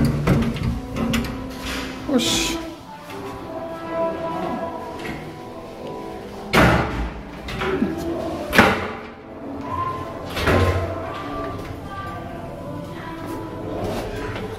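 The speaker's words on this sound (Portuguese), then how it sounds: "eu não consigo trancar a porta" A bathroom door being handled and failing to lock: repeated thumps, clacks and a couple of sharp knocks scattered across the clip, fairly close, with a brief spoken word and background noise around them.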